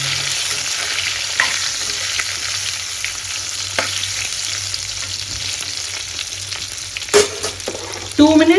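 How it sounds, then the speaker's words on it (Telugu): Brinjal pieces fry in hot oil in a pan, a steady broadband sizzle with occasional scrapes and knocks of a spoon stirring them, louder clattering near the end. "నేనైతే ఇప్పుడు వంకాయలు వేస్తాను. వంకాయలు వేసి కొంచెం వేయిద్దాము."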